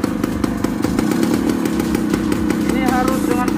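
Vintage Yamaha 80 motorcycle engine running with a rapid, buzzy two-stroke-like putter, loud and near, steady pulsing throughout while someone speaks over it.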